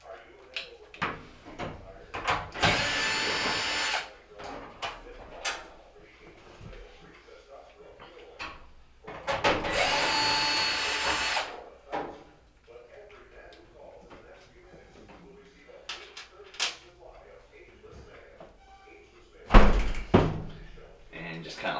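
A power drill backs out 5/16 screws from the front panel of a Maytag dryer, giving two loud, sustained whirring bursts about a second long each and a later shorter burst, amid clunks and handling noise with someone talking.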